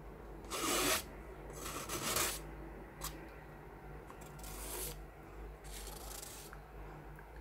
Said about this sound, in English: So I'm just scraping this all off.